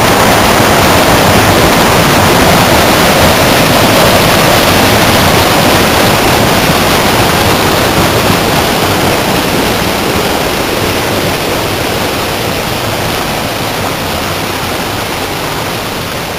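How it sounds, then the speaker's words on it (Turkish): A mountain stream rushes on a trout-fishing route near Abant, a steady broadband roar of water holding nearly constant and close for the whole stretch, with no voices over it. "bu da yolumuzun üzerindeki karşımda çıkan derelerden biri"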